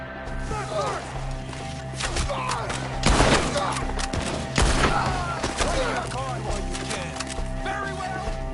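Bursts of gunfire in the Western video game Red Dead Redemption 2, heavy rifle and pistol shots cracking out in clusters over game dialogue and shouting voices.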